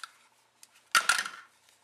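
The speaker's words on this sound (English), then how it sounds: "And what I did is I took my fringe scissors" Fringe scissors snip cotton ribbon in two quick, crisp cuts close to the mic, with faint light handling ticks before them and no talk.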